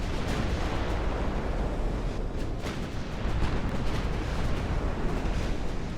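Warship guns fire in a heavy cruiser naval battle in Ultimate Admirals: Dreadnoughts, a continuous barrage of overlapping booms and thuds with sharp cracks scattered throughout.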